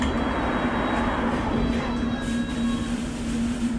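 A London Underground District Line train runs along the track with a loud, steady rumble and hum, a sustained tonal whine riding over the rolling rail noise.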